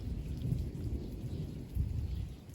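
Low, rolling thunder rumbles faintly at the end of a summer thunderstorm, over a soft, steady wash of rain.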